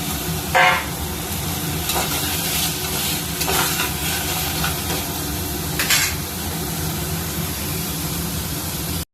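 Vegetables and green chilli frying in oil in a pan with softened onion for a quick khichuri, giving a steady close sizzle with occasional stirring scrapes and brief spatter bursts.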